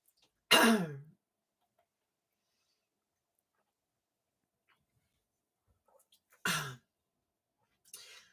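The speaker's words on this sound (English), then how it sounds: "You make me cough all you want." Two short, sharp coughs, loud and close, separated by several seconds of near silence, with a faint third sound at the end.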